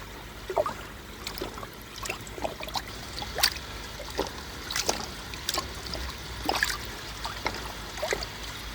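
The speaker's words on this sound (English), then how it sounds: "All that water go out through the overflow, down into the plants," Water drains from a koi pond through its overflow, trickling and splashing with a run of irregular drips and small gurgles over a quiet wash.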